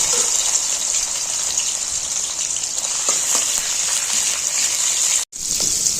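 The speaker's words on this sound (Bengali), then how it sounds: "তেল দিয়ে দিয়েছি কড়াইয়ের মধ্যে এর মধ্যে চিংড়ি মাছটা ছেড়ে দেবো" Prawns sizzle in hot oil in a wok, a loud, continuous hissing crackle that holds steady throughout with one brief dropout near the end.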